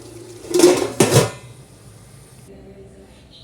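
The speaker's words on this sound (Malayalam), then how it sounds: "ഇത് നല്ലോണം തിളക്കണുണ്ട് കേട്ടോ നമുക്കൊന്ന് മിക്സ് ചെയ്ത് കൊടുക്കാം" Metal clattering of a spoon stirring chicken mandi broth in a pot, two loud scrapes and knocks close by early on, then quieter bubbling and faint kitchen noise.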